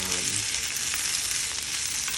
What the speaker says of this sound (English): It's a lot of potatoes, so just make sure you stir and make sure you get the ghee out.